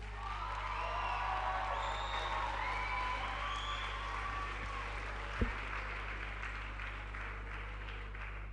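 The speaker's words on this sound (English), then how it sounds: "With a round of applause, shall we invite the principal," Audience applause welcoming the school principal at a school anniversary event, a steady, even wash of clapping from a sizable crowd, moderately distant and continuous, with one sharp thump partway through.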